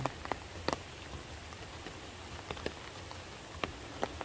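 Autumn rain falls steadily in the Guryong valley of Chiaksan mountain, a dense even hiss with scattered sharper drips and taps close by, and no voices.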